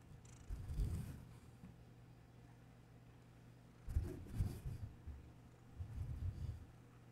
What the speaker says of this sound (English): Why are you purring?